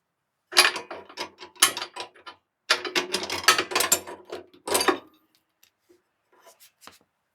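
A nut is worked loose from a rusty lift rod on a zero turn riding mower deck, with bursts of close, sharp metallic ratcheting clicks in quick runs, then a few faint taps.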